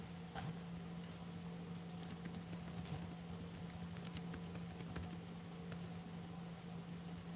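Light clicks and taps of a computer keyboard come in scattered bursts, faint and intermittent over a low steady electrical hum.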